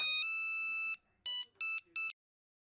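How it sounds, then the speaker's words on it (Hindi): A telephone rings late at night with a shrill electronic tone, one long ring followed by three short bursts, loud and close, with no talking. "हाँ नटू काका, इतनी रात को फोन क्यों किया?"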